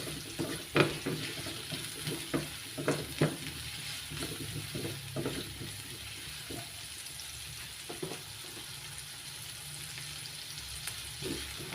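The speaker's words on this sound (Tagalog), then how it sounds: "Gisahin hanggang sa lumabas ang aroma. Pagkatapos isunod na natin yung ating 2 cloves ng bawang." Garlic sautéing in a pan for adobong pusit gives a quiet continuous sizzle, broken by scattered spoon taps and stirring knocks, close and without talk.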